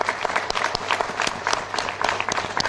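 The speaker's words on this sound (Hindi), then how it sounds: "सर के लिए एक बार शानदार ताली हो जाइए आप लोग" An audience at an RCM seminar in Ahmedabad gives a seminar speaker a round of applause: dense, steady clapping from many hands, fairly close and sustained for about three seconds with no one speaking.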